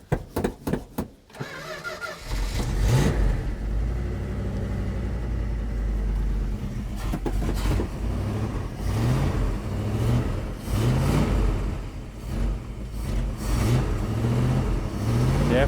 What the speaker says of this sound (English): Definitely running though out of that gas can